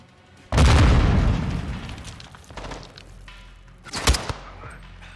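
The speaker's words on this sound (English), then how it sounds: "Grenade out." A grenade explodes in the Modern Warfare 2 campaign with a sudden, loud, close boom that rolls into a long, fading rumble, followed by another sharp burst of blasts a few seconds later.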